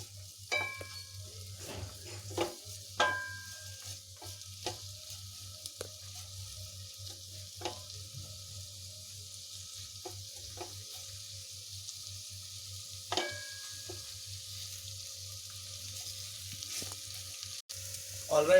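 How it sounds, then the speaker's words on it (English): Onions fry quietly over a maximum flame for a Spanish omelette, giving a soft continuous sizzle with a low steady hum and scattered clicks and clinks of utensils. "We need to wait till the onions turn golden brown, and the flame is a maximum flame."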